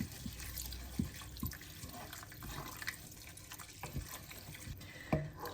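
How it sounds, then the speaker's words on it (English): Fish stock is poured into a pan of prawn rice for arroz meloso, making a faint, steady liquid pour and splash with a few soft clinks from the cookware. "Then we will add the fish stock."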